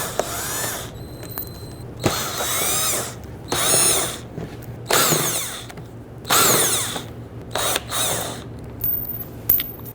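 A power tool whirs in short repeated bursts while loosening and removing 7mm screws from the lower lip of a Dodge Charger front bumper cover, each burst lasting about a second with pauses between.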